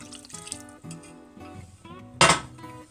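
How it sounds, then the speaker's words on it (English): Water is added to a pot of simmering chicken stock while the bottom is scraped, making clinking and scraping sounds with a sudden splashing pour near the end, all close by and without talk. "just keep scraping this and adding water as you go."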